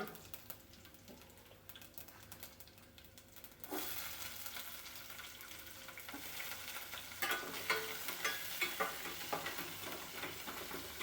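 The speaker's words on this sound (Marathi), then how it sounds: "लसूण लाल झाला तर कांदा टाकतो. कांदा टाकू आता." Garlic sizzles softly in a pan before onion is added, and the frying grows busier and louder, with light scraping and stirring clicks over a low, even sizzle.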